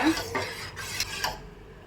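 A spoon stirs urad dal milk in a pot with a few close, soft scraping and rubbing strokes, repeated in an uneven rhythm.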